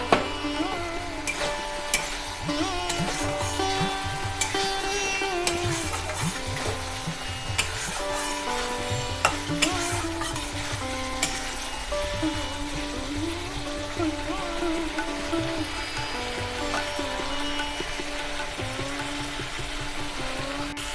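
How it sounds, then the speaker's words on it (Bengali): Potatoes being sautéed with spice paste in a pan for a katla fish curry: continuous busy frying and scraping with rhythmic stirring knocks, fairly loud, with faint background sounds and no clear talk. "মশলা আমাদের কষানো হয়ে গেছে, আলু দিয়ে 1 মিনিট কষিয়ে জল দিয়ে দেবো"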